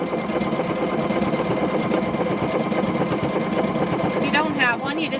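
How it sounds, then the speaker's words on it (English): Sewing machine stitching a car seat cover makes a fast, steady mechanical whir with rapid needle ticks throughout, close and continuous, with a voice talking over it. "We got a sewing machine."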